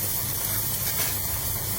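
Onions sizzle steadily in a hot pan, a continuous close hiss that holds at a fairly even level throughout with no talk over it.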